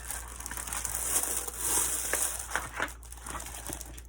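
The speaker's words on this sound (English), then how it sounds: "I apologize for the plastic noise." Plastic packaging crinkles and crackles close to the microphone in a dense, irregular run of rustling bursts, fairly quiet overall, with no talking.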